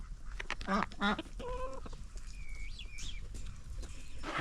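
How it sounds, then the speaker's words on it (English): Ducks and chickens peck at wedding cake nearby, giving short quacks, clucks and squawks in quick bursts over a quiet outdoor background, with no one speaking. "the ducks and the chickens are eating the wedding cake"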